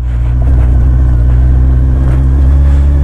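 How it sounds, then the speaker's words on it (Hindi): A motorcycle engine revs on a mountain road ride in North East India near the Chinese border, a loud steady low rumble close by, alone without talk. "है आवाज से डर गया बाइक की बेचारा।"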